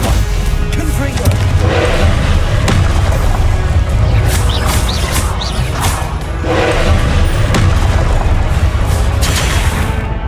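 Confringo blasting spells explode again and again in the Hogwarts Legacy video game, loud booming crashes with whooshes and smashing impacts layered into a dense, continuous battle din, with a voice shouting spell names over the blasts.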